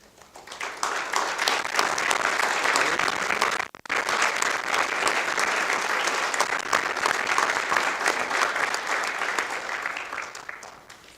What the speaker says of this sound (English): let's give them a round of appreciation and applause